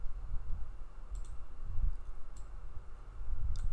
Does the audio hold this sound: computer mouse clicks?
yes